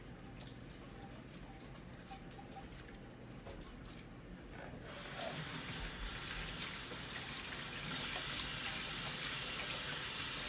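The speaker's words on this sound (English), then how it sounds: "Let me wash my hands." Running tap water in a home kitchen while hands are washed during chicken satay preparation, a steady quiet splashing stream that grows louder partway through, with no talking.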